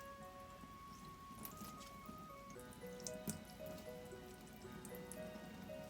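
Water drips and trickles from wet spinning fiber as it is gently squeezed, a soft, close patter of drops over a faint steady background tone.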